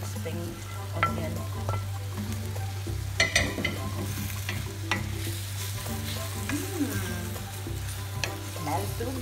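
Shrimp, broccoli and spring onion sizzle in oyster sauce in a hot pan, a steady close frying hiss broken by scrapes and clacks of a spatula stirring, over a constant low hum.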